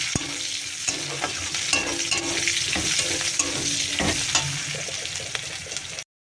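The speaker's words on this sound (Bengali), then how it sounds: "দিয়ে দিচ্ছি পেঁয়াজ এবার এটাকে ভালো করে নাড়ব" Onions and garlic fry in oil in a pan, a steady close sizzle broken by repeated scrapes and clacks as they are stirred, until the sound cuts off abruptly.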